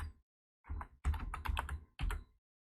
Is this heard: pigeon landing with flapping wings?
no